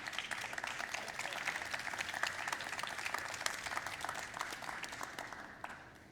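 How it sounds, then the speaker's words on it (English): A room full of people at a panel discussion applauds steadily, a dense patter of many hands that tapers off slightly at the end. "Another round of applause for their valuable contribution."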